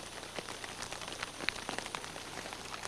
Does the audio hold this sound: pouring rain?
yes